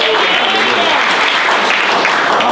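A church homegroup congregation claps loudly and continuously, a dense close wash of hands with no pause across the short stretch.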